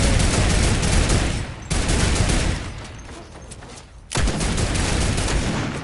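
Turret gunfire in a death run video game: loud, dense bursts of rapid shots that cut out abruptly, leave a quieter stretch of scattered fire, then start again at full force.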